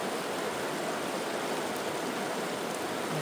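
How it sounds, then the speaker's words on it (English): The White River in the Bob Marshall wilderness rushes steadily at a wilderness campsite, a close, even wash of flowing water with no voices. "This is the White River."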